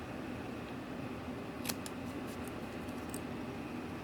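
Scissors cut paper petals for 3D craft flowers, giving a few faint, crisp snips near the middle and end of the clip over a constant background hiss.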